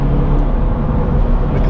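Inside a Subaru BRZ on the highway, the engine gives a low, rough rumble as the driver drops from sixth to fifth gear to pass, with a voice talking over it.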